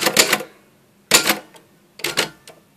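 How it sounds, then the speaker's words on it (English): Three quick bursts of typewriter keystrokes, each a crisp cluster of sharp clacks separated by short pauses, close and clear with no talk. "Typing one-handed with a camera in your hand is not the easiest thing to do."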